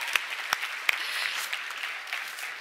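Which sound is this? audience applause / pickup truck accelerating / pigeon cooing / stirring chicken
audience applause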